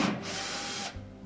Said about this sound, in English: We'll start by removing these two screws that secure that top panel.